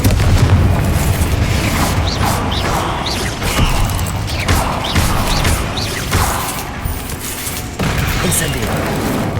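Confringo blasting spells in the video game Hogwarts Legacy go off repeatedly, loud booming blasts mixed with mechanical clanking and crackling effects over a continuous game soundscape.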